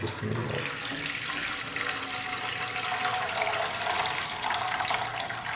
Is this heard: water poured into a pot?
yes